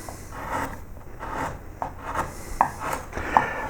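Hand carving in wood with a flat gouge on a dog cameo, giving repeated close scraping and shaving strokes, soft and rhythmic, with a couple of sharper ticks near the end.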